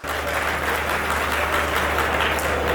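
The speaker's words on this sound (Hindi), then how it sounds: "तालियां बजाओ, मैं पढ़ती हूँ।" A Hindi kavi sammelan crowd applauds at a poetry reading: a brief, dense, continuous burst of clapping at steady loudness over a low electrical hum, with no speech.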